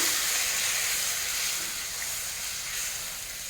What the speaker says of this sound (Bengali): তো এখন দিয়ে দেবো প্রয়োজন মতো জল।